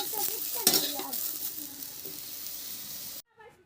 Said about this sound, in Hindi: परवल रखे और परवल को थोड़ी सी फ्राई होने दिए